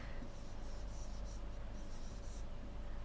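Chalk or marker writes letters on a classroom board, a faint, scratchy series of short strokes over steady background hiss, with no talking.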